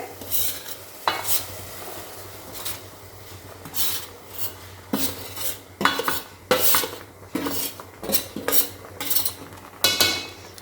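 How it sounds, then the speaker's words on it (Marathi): A spoon scrapes and clanks repeatedly against a pot in quick irregular strokes as flour is stirred into boiling water over a high flame, the thick mixture with a faint sizzle underneath. "आता आपल्याला ह्याच पाण्यात हे पीठ टाकायचं आहे"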